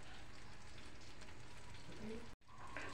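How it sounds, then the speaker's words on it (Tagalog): Vegetables for pakbet, including winged beans, okra, squash and string beans, fry in a pan with a steady, dense sizzle that cuts out briefly near the end and then resumes. "ilagay na natin ang mga gulay"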